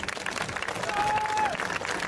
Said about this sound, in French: un tonnerre d'applaudissements pour Mr.